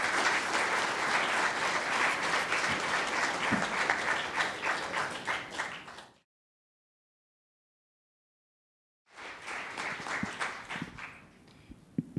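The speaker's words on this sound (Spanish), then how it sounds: "El aplauso se deja siempre para el final." An audience at a panel on social architecture and muralism claps in steady applause for about six seconds, then goes silent. A second round of clapping follows and fades out.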